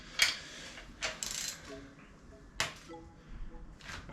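Ratchet clicking on engine bolts during an engine teardown, with several short bursts of rapid clicks separated by pauses, close and fairly clear with no talking.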